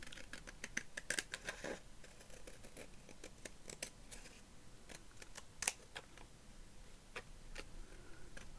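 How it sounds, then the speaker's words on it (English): Card stock trimmed for shabby chic ephemera gives sparse, crisp clicks and snips, close but quiet, scattered irregularly over a faint room hush. "So I'm just trimming this. The card is just a little too wide."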